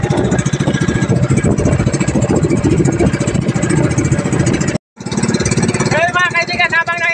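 Powerful boat engines drone loudly and close at sea during a chase of an illegal fishing boat, a throbbing mid-low rumble with people talking over it and a brief cut partway through.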